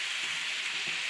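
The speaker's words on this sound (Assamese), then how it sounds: "মই এইখিনি আলু দি ভাজিছোঁ ইয়াতে মই বিলাহী দি দিম দুটামান কাটি" Potatoes frying in a pan with sliced tomatoes for a pork dish, a steady soft sizzle with faint crackle, fairly quiet and continuous with no talking.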